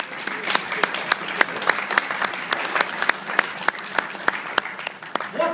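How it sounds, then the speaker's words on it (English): A congregation at a secular service breaks into hand clapping. Individual claps stand out crisply in an uneven, moderately loud patter that carries on for several seconds without speech. "That's a good place for a hand clap."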